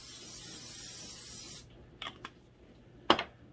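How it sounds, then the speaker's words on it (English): Cooking oil sprayed from a can over food in an air fryer for a close, steady hiss of about a second and a half, then a few short spritzes and a sharp final burst. "I'm going to spray this down here,"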